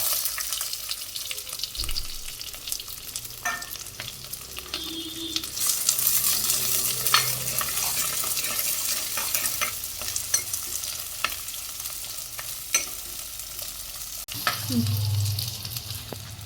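Dried red chillies, garlic and onion frying in oil: a close, crackling sizzle broken by spatula scrapes and clanks against the pan, growing louder partway through as the ingredients go in, with no speech.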